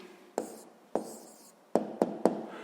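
Someone writes out a sixth-grade math answer by hand, five sharp taps and scratches of pen on paper in an uneven rhythm, close and alone.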